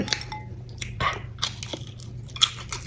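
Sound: eating crispy German pork knuckle, crunching

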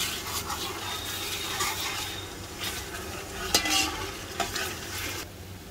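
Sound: garlic being fried and stirred in a pot for mutton paya

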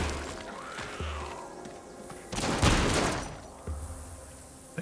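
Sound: gunshots in VR video game Arizona Sunshine

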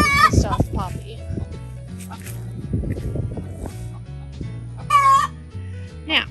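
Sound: hens clucking in a coop

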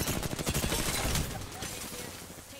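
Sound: gunfire in the Apex Legends video game

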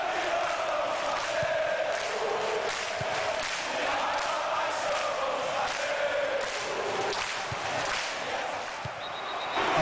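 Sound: crowd applause and boos in a football video game

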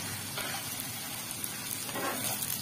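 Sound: frying chopped onions in hot oil, stirring

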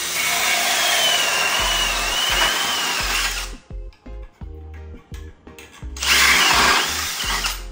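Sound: drilling a small hole in a metal plate

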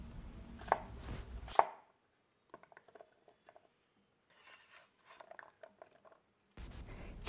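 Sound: knife dicing radish into small cubes

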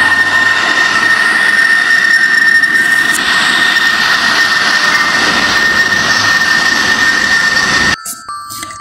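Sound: fighter plane jet

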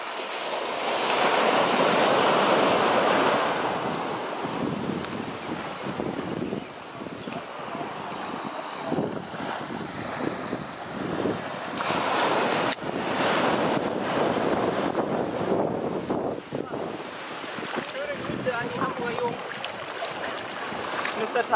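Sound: ocean waves and wind at a beach in Kihei

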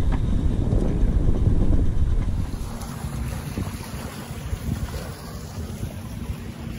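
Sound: wind while sailing a Condor 40 trimaran

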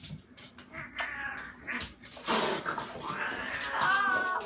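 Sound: cats fighting with a dog nearby

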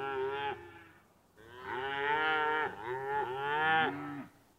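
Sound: cows mooing on a farm

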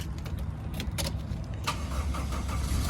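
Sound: Toyota 4A engine starting

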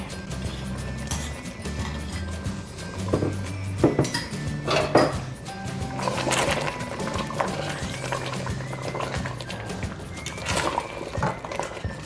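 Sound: stirring shrimp curry paste into coconut milk in a pot

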